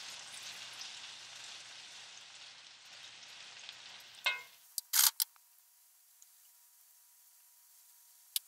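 Shrimp and mushroom quinoa risotto ingredients sizzle steadily in a hot pan for about four seconds, then the frying cuts off, leaving a few sharp clicks and clatters of utensils.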